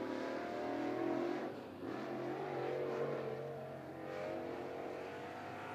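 Crate late model race car engine at a speedway during qualifying, a steady loud mid-range drone that swells and eases as the car laps, with no talk over it.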